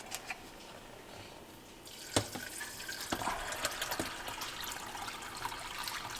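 Water is poured into a crock pot holding beans with salt and epazote, a faint trickle that swells into a steadier splashing pour with a few small clinks, heard close and alone.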